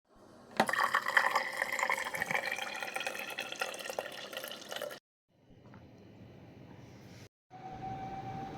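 Drinking water running and splashing into a glass in a home kitchen, a steady broadband rush for about four seconds, then quieter hissing and a faint tone after a brief pause.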